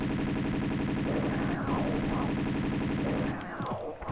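Rapid automatic gunfire from guns in the video game Tomb Raider II, a dense continuous burst over a droning game background that tails off near the end.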